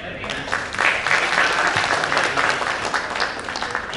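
An audience claps steadily for a few seconds at a meeting of private university leaders in Yogyakarta, a dense, even wash of applause from a seated crowd.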